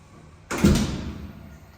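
A door swings shut indoors near a combi boiler, one solid close with a short dull thud and a brief fading rattle after it, heard alone with no talk.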